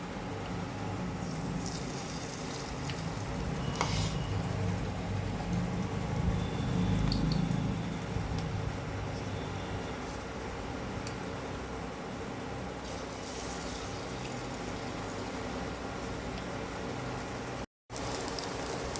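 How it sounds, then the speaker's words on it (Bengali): Batter-coated baby corn fries in hot oil with a continuous dense crackling sizzle, like steady rain, heard up close for the whole stretch with no talking, briefly cutting out near the end. "আমি এর মধ্যে কর্নগুলো দিয়েছি, ওর মধ্যে এটা ভেজে নেব, বেবিকর্নগুলো ভেজে নেব এইভাবে।"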